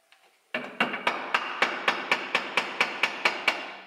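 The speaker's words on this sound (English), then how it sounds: "I'm just going to try and tap this off with my rubber mallet" A rubber mallet taps a gasket cover loose on a Lambretta scooter engine during an RT195 kit build, with about a dozen evenly spaced, fairly loud thuds in a steady rhythm after a faint start.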